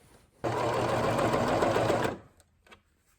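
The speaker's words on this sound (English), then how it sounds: "I'm going to stitch all the way around the neck, attaching the neckband to the sweatshirt" A sewing machine stitches a neckband onto a sweatshirt in one steady, loud, close burst of about two seconds, then stops, followed by a few faint clicks.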